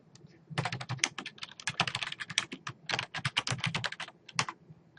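Close, steady typing on a computer keyboard, rapid clicking keystrokes in long runs broken by short pauses, with no voices.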